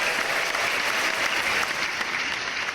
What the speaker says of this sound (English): Can't start the show without the loud claps.